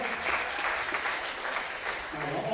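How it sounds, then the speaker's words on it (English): A high school stage hypnosis show audience gives a brief round of applause, quiet and somewhat distant, with clapping that swells and fades over a couple of seconds while a voice carries over it. "Go ahead, give him a round of applause."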